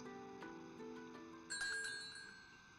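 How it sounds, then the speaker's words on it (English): Video game door chime ringing as a door opens: a bright bell-like tone with sustained harmonics, then a second louder, brighter ring partway through that slowly fades out. "The door chimes as we enter."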